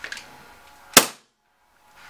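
An SSP1 airsoft pistol powered by green gas fires a single sharp, loud crack with a short hissing tail, followed by near silence.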